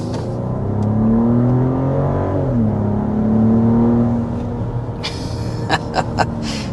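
A BMW X7 SUV with its V8 engine in sport mode revs up in a smooth rising and falling drone, loud and close, followed by a few sharp crackles or pops near the end with no talking.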